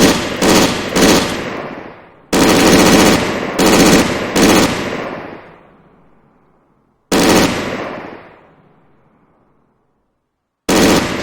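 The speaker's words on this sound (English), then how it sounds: "you have the MG42 added to the Kubalwagen, which has a limited arc on it" An MG42 machine gun mounted on a Kubelwagen fires loud bursts in a video game, several rapid strings with long echoing tails and gaps between volleys.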